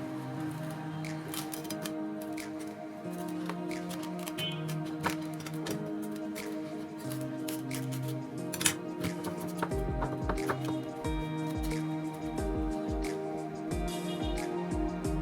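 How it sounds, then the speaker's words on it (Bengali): Foil sheet is crinkled and pressed over a whole chicken roast, giving a continuous close crackling and rustling with sharp clicks and crunches, while a steady hum plays underneath throughout. "ফয়েল পেপার দিয়ে এটা ঢেকে রাখবো 2 ঘন্টার জন্য।"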